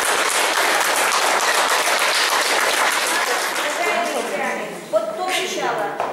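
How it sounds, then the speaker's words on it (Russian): An audience at a school event applauds with dense, sustained clapping that gradually thins and fades toward the end, while a voice speaks over the final seconds. "спасибо и эти аплодисменты"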